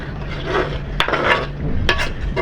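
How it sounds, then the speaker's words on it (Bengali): Chopped tomatoes frying in a pan as a utensil stirs them, with scraping clinks over a steady sizzle and a couple of sharper knocks against the pan. "এবার দেবো টমেটো কুচি। এগুলো ভালোভাবে ভেজে নেব।"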